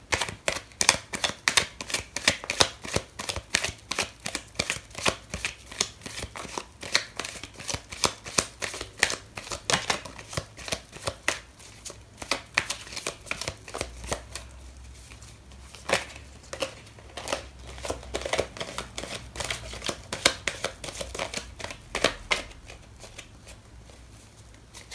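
Tarot cards are shuffled in a rapid, continuous riffle of crisp, close flicks lasting over twenty seconds, with brief pauses and bursts of faster snapping.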